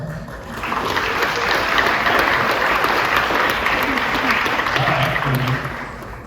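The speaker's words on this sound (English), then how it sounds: "How about some applause?" Wedding guests break into applause during the vows, a loud, dense round of clapping that swells quickly, holds steady, then starts to fade near the end.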